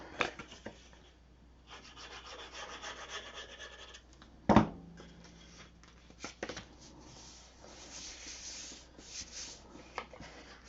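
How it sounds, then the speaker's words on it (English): Glued pieces of a shadowbox frame being burnished flat, quiet rubbing and scraping strokes with a few sharper taps, faint and close, no voices. "push it down flat and burnish it down"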